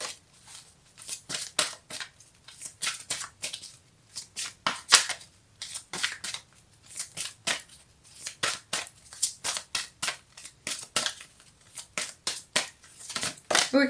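Tarot cards are cut and shuffled by hand in a quiet room, giving a long run of crisp, close paper riffles and taps in quick irregular bursts, with no talking.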